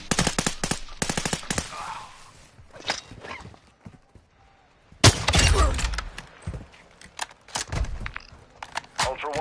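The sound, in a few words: gunfire in the video game Call of Duty Modern Warfare 2 DMZ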